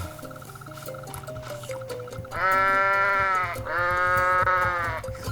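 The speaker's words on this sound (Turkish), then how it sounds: "Aa bak farklı bir keçi." Goat bleating in a GTA-style goat video game: after a background of game music and effects, two loud, drawn-out bleats sound close up, one after the other.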